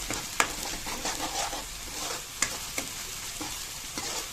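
Spices are fried and stirred in a pan with a little water added, producing a steady close sizzle and hiss with occasional sharp scrapes and taps of the spoon against the pan.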